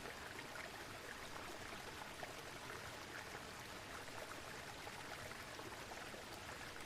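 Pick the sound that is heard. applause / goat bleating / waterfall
waterfall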